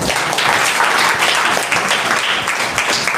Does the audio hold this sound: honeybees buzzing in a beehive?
no